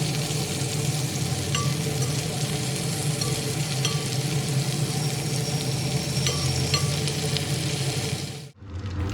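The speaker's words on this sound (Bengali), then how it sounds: "রুই মাছের টুকরোগুলো তাই এই রকম হালকাভাবে ভেজে নিচ্ছি।" Pieces of rohu fish sizzle steadily in hot oil in a pan, a continuous close crackle with faint clinks before it cuts off near the end.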